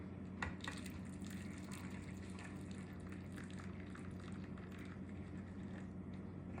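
Beef bouillon pours and splashes steadily into a pan, a soft continuous gushing over a low background hum, with a small clink at the start.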